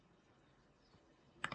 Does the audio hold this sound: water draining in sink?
no